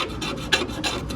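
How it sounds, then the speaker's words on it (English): An old chainsaw file dragged across metal as a scriber, a close run of about six quick rasping strokes in an even back-and-forth rhythm. "I sometimes use an old chainsaw file as a scriber, give it a second life"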